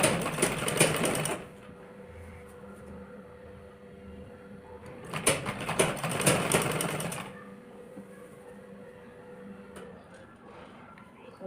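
A sewing machine stitches a blouse in two loud bursts of whirring, the first short and the second longer, with quieter pauses between them and no talking.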